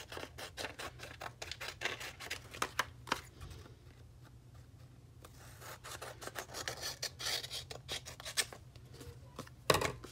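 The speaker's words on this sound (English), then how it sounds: "Okay, so then I'm just going to trim this off." Paper being trimmed for a handmade junk journal: a close run of crisp, rasping scissor cuts in uneven bursts, quieter for a stretch in the middle, with no talking.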